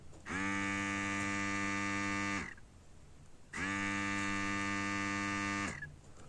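A small electric pump motor inside a soap dispenser hums steadily in two bursts of about two seconds each, separated by a short pause, close and fairly quiet.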